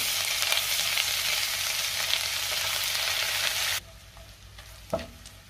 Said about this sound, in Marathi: आता हे चांगलं व्यवस्थित परतून घेऊया।